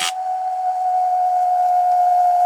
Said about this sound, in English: It's the whistling spinning top.